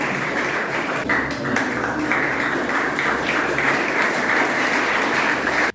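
Crowd at a sports programme applauding the AC Milan coaches in Goa, a dense, even roar of clapping held steadily at full strength for several seconds before cutting off.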